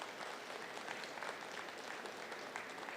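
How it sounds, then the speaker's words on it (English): A large audience applauding at a 2024 West Central High School graduation ceremony, graduates clapping for their families in a dense, even wash of claps that holds steady and sounds somewhat distant throughout. "why don't you grads give them a round of applause for investing so much in you"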